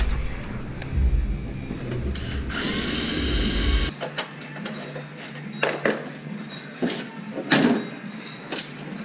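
Cordless power drill during a teardown, a loud rising whir spinning up for a couple of seconds before cutting off, followed by scattered clanks and tool handling sounds nearby.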